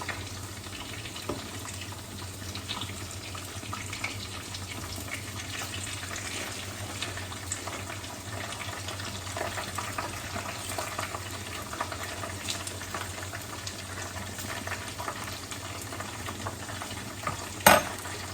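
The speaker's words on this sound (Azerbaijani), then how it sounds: "Qovurub sonra qoyuram dəmə. Kotletlərimiz." Meat cutlets fry in a pan with plenty of oil, giving a steady, close crackling sizzle that runs unbroken for the whole stretch, with a brief clink near the end and no talking.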